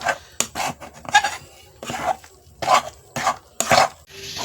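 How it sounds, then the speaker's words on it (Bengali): Dough being stirred to a stiff consistency after a pinch of salt is added, in a village kitchen: irregular scraping and rubbing strokes of a spoon against a pot, close and moderately loud, no talking. "এইভাবে নাড়তে থাকবো একটা শক্ত ডো বানিয়ে নেবো"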